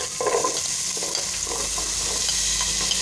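Tomato, onion and half a medium bell pepper frying in oil in a pan, a steady close sizzle running throughout with soft stirring scrapes, no voices.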